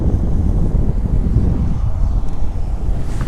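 Sea water splashes under strong wind at Dhanushkodi, a dense low roar of gusts and surf buffeting the microphone continuously at close range.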